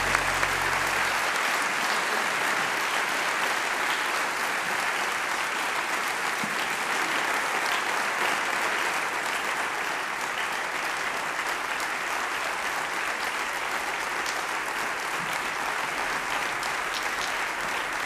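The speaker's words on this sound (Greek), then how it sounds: "Σας παρακαλώ όπως είστε για να τους χειροκροτήσουμε" Sustained applause from a large audience at an awards ceremony, a dense, even wash of clapping that continues steadily for the whole stretch.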